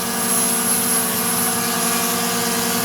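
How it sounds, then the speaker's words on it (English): A DJI Mini 3 Pro drone flies steadily, its propellers giving off a constant loud, high-pitched buzzing whine with no pauses. "And the propellers are still quite loud."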